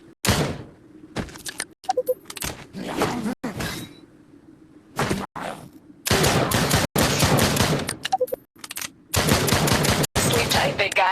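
Gunfire in the VR shooter Drop Dead: Dual Strike, with dense bursts of rapid shots separated by short pauses and several longer sustained volleys, loud and close.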